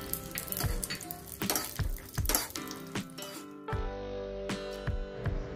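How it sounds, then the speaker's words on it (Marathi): Cashews frying in ghee in a pan, a steady sizzle broken by a few louder clinks and stirring knocks, with a quieter, steadier stretch of frying near the end. "सगळ्यात आधी साजूक तुपामध्ये आपण घेतलेले काजू मस्त तळून घ्यायचे आहेत"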